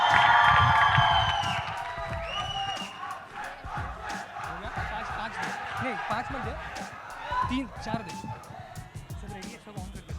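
A crowd at a film trailer launch event claps and cheers loudly as guests are called up, with shouts and whoops fading into lively chatter and a host talking over the noise.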